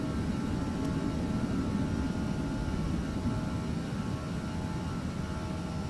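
Steady, loud engine roar of an Airbus A320 climbing out after takeoff, heard as a continuous broadband rumble in a flight simulator game on an Austrian Airlines flight from Vienna to Heathrow, with no talk.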